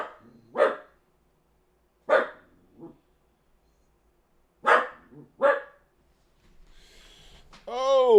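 A dog named Max lets out several sharp, separate barks spaced a couple of seconds apart in a quiet room, with a brief pause between groups and a faint electronic tone rising near the end.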